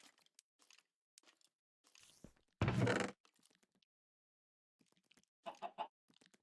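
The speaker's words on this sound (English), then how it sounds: "Are you chicken? Here you are, chicken. Chicken, come this way." Chickens cluck in a crafting survival video game, several short clucks and a louder burst spaced out over quiet background.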